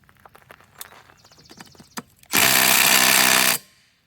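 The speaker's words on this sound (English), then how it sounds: "See if the old Milwaukee's got enough nuts to take this off." Old Milwaukee power tool, likely an impact driver, removing a 17 mm nut: a few light handling clicks and taps, then one loud, close burst of about one second of hammering whir that cuts off sharply.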